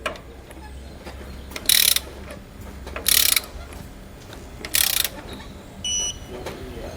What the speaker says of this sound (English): And then we can torque our hardware to the specifications found in our instructions.